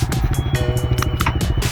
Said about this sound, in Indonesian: hampir saja motornya nggak bisa naik karena jalannya curam banget